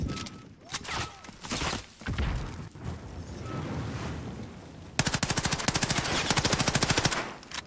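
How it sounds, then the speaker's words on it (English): Rapid automatic gunfire in Call of Duty: Modern Warfare on PS4, with scattered shots and booms early on, then a loud, steady burst of machine-gun fire up close. "Oh my god, he was shooting at you."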